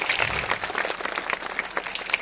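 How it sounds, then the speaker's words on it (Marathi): An audience gives dense, energetic applause to welcome YouTube artists at a live stage event, a close, continuous patter of many hands throughout. "सर्वांनी जोरदार टाळ्यांच्या गजरात स्वागत करायचं आहे."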